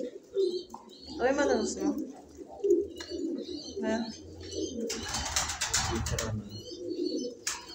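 Young pigeons coo and chirp close by in bursts, and a person speaks briefly between the calls. Near the end, a louder rush of flapping or rustling is heard.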